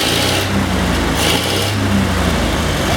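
A 1930 Ford Model A engine with a newly replaced carburetor runs steadily and close by, a smooth, even idle with a low rumble throughout and no voices.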